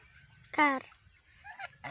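Geese swimming on a farm pond give one loud, nasal honk, then a fainter honk and the start of another, over a quiet, low background.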